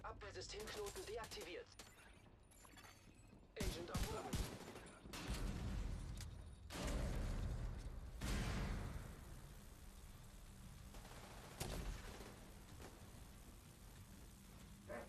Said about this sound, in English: Shoot top left of Boomer's backpack